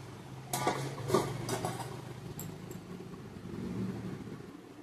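A lid clatters onto a cooking pot of chicken curry with potatoes, a few sharp metallic knocks early on followed by a low steady simmering hum, no voices.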